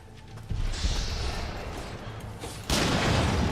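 Gunfire in the Nioh 3 video game comes as a loud, rumbling burst of shots, followed by a second heavy volley near the end, close and dense with no talking over it.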